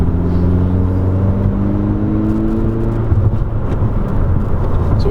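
A 2020 Honda Civic Si coupe with a manual gearbox accelerates hard after a downshift, its engine note droning loudly and climbing in pitch from inside the car, with no voices.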